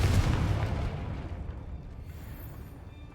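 A Confringo fire spell explodes in the Hogwarts Legacy video game, a deep booming blast that hits loudly at once and rumbles away over about three seconds.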